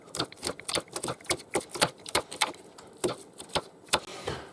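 A knife makes small cuts into a peeled onion for a spicy chicken and patatas bravas dish, producing a quick series of sharp, crisp taps in an uneven rhythm, close and fairly quiet with no talking.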